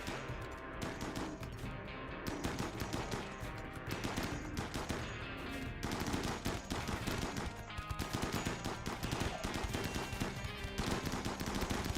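Sustained video-game gunfire aimed at mega slots, rapid automatic bursts and shots packed tightly together and running loud and nearly unbroken, with no talk over it.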